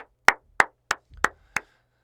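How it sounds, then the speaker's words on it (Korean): Applause from a lecture audience heard as five sharp, separate claps at a slow, even pace, close and distinct against near silence. "박수가 나오네."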